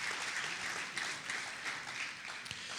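A church congregation applauding during a sermon, a broad, steady hiss of many hands clapping heard at a distance, fairly quiet and even, with no talk over it.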